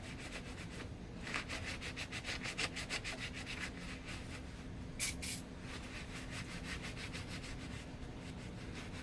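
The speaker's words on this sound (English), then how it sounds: "A really good cleaner with the WD-40." A motor being cleaned with WD-40 cleaner gives close, steady rubbing and scrubbing with a brief hiss of spray midway, and no one talks.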